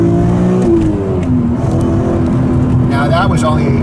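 A BMW sports car engine, from a comparison of the BMW M2 and the S54-powered BMW Z3 M Coupe, revs hard to around 7,000 RPM, a loud steady climbing drone that stays close and fills the whole stretch.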